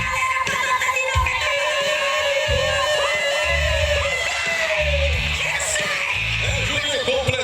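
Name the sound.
rodeo crowd yelling and cheering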